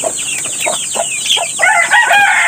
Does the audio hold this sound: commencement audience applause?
no